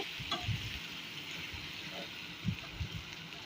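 Boiled jute leaves stirred into hot fried onion and garlic give a faint sizzle with low soft stirring bumps and scrapes, quiet and close, no speech.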